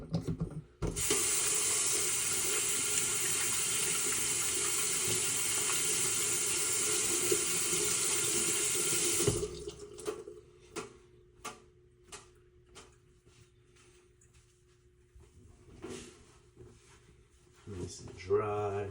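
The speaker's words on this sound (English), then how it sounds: "Wash your hands again." Hands washed under a running sink tap while cooking homemade lasagna, a steady close hiss of flowing water for several seconds, then the tap shuts off and scattered handling clicks and taps follow.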